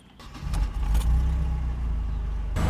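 A Mercedes W203 C-Class engine cranks briefly, catches and settles into a steady, close idle after a fuel filter replacement.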